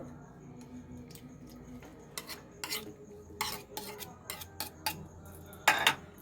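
A utensil clinks and scrapes against a bowl while stirring beaten egg mixed with salt, chopped onion, tomato and chili, with irregular taps that grow louder near the end over a quiet background.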